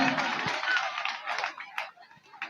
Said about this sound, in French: Voilà, on applaudit pour le principal.